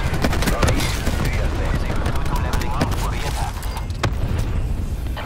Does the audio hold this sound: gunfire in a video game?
yes